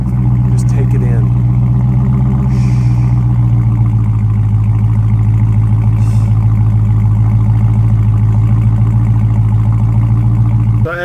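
A 2018 Dodge Charger Scat Pack sedan's engine drones loudly and steadily at a low pitch throughout, with brief voices and clicks near the start.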